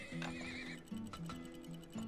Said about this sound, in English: I know we're spending a lot on the horses,